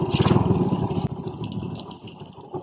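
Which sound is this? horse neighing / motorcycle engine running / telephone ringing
motorcycle engine running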